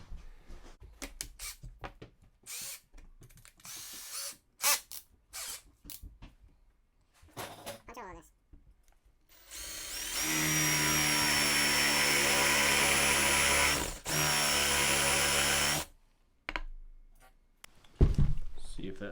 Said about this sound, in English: Now I took the drill bit that's the closest size to the ferro rod.